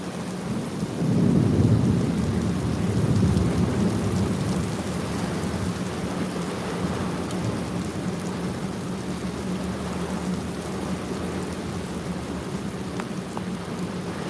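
A heavy thunderstorm with hail in Queens, New York: a deep rumble of thunder rolls early on, then dense rain keeps pouring steadily, loud and close, with no voices.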